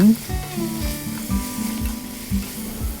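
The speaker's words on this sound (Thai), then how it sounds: "ผัดทุกอย่างให้เข้ากันอีกรอบนึงนะคะ ผัดให้นานหน่อย" Sichuan pepper chicken is stir-fried in a pan with a steady close sizzle. Repeated scraping strokes from the spatula or pan give a rhythmic tossing pattern several times over.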